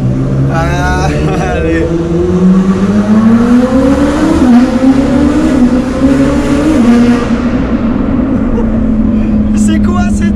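A Pagani supercar engine revs up close, its rising and falling note swelling loud and steady over about ten seconds, while people talk and exclaim over it.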